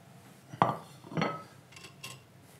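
Plates and cutlery clinking while braised leeks and fish are plated up, two distinct close knocks of utensil on crockery followed by softer lighter taps in a quiet kitchen.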